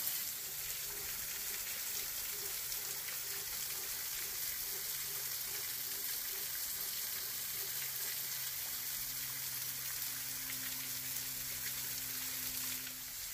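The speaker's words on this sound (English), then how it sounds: "from this possibly undocumented waterfall that we stumbled upon" A small waterfall and creek in Daniel Boone National Forest, Kentucky, pour in a steady, dense rushing hiss, close and continuous, with faint low tonal hums underneath and no speech.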